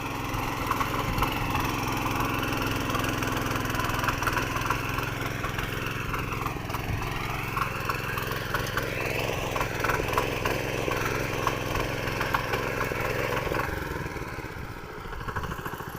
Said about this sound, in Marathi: मी छोटा ट्रॅक्टर आपल्या बागेमध्ये हाकून घेतलेला आहे